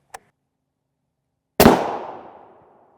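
An M14A1 armor-piercing incendiary rifle round with a hardened steel penetrator strikes a Level IV armor plate: a faint distant report, then after a pause a loud sharp impact crack that rings and decays over about a second.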